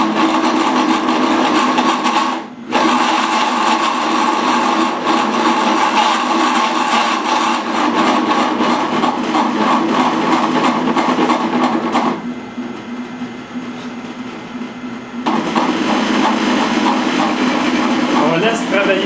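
A chambering tool, run with concentrated cutting oil, whirs steadily as it cuts, a continuous high mechanical drone with a brief dropout early on and a quieter stretch near the end.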